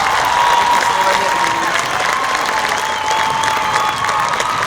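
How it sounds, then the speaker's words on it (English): A large audience applauds steadily at the Everett High School class of 2019 graduation ceremony, a dense, sustained wash of clapping that fills the hall and stays loud without letup. "A round of applause for your valedictorian, Miss Vicky Doe."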